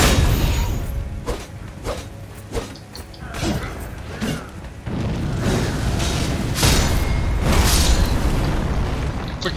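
An enemy suicide bomber explodes in Elden Ring at the Haligtree: a run of loud, sharp booms and bursts, followed by a sustained roaring rumble that fills the rest of the scene.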